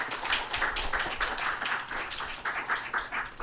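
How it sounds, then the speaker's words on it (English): A small audience at a talk claps in a short, rhythmic patter with distinct individual hand claps repeating at a fairly regular pace. "let's give Marcel a round of applause today"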